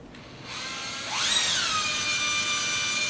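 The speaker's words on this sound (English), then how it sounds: "go ahead and start drilling." A power drill bores mounting holes for a EurekaZone EZ Smart Saw Base, its high whine spinning up after a short pause and then holding steady and close, with no talking.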